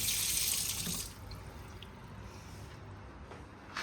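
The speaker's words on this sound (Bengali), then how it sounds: "জল চালিয়ে দিই, ভিজিয়ে রাখি, একটু পরে ধোবো।" Tap water runs into a kitchen sink to soak dirty dishes, a steady gushing stream that is strongest at first, then gives way to softer trickling and splashing at a moderate distance, with no talking.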